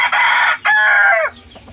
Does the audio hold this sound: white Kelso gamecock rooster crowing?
yes